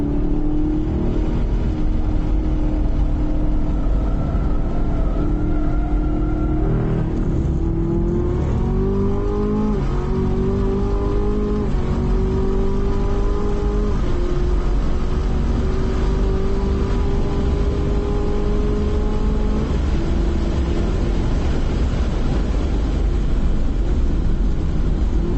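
A Chevrolet Camaro ZL1 laps a race track at NMSP, its loud engine droning close and steady, pitch rising and falling through shifts and corners across the run.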